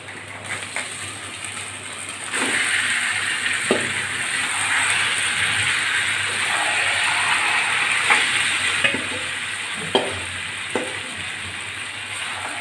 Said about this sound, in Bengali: এবার ম্যারিনেট করা চিকেনগুলো দিয়ে দেব